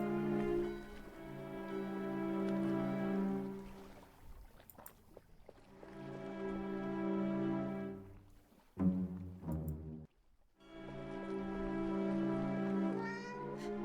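A cat meows in the horror game The Dark Rites of Arkham, with long drawn-out harmonic cries repeating several times, then a short chirping burst and a final meow, fairly close and quiet, with no talking.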